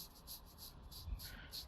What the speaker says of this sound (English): This sanding is easier than the other sanding.